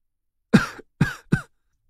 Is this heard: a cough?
yes